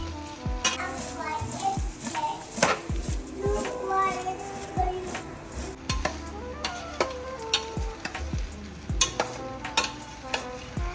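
A tempering of oil and spices sizzles and crackles for methi dudhi muthiya dhokla, with steady frying and stirring scrapes close by while children's voices chatter in the background.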